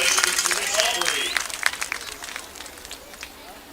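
Crowd at a 2021 Pewitt homecoming football game applauding the homecoming king and queen, a loud burst of clapping and cheering that gradually fades away over a few seconds.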